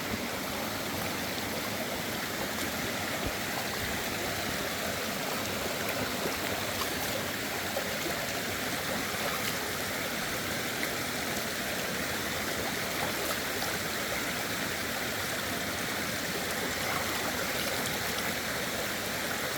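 A mountain valley stream on a farm trickles and burbles steadily and fairly close, a continuous rushing flow with no voices.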